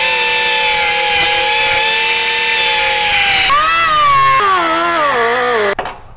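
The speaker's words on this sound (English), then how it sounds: "Using a disc cutter, cut along your template lines." A disc cutter slices a fender flare along template lines, giving a steady, loud, high-pitched grinding whine that dips in pitch as the blade loads up, then cuts off abruptly near the end.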